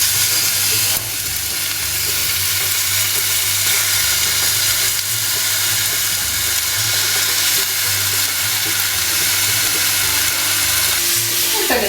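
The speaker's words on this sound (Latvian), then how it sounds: "uz sausas pannas liek šķiņķīšus" Ham slices frying in a dry pan for homemade shawarma, a steady close sizzle and hiss running the whole time with faint low kitchen rumble underneath and no talking.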